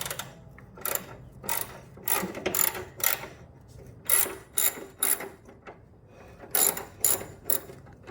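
A ratchet wrench cranks out a 13 millimeter bolt during fender liner work on a 2014-2018 Chevy Silverado, giving close, crisp bursts of rapid clicking separated by short pauses, repeated about a dozen times.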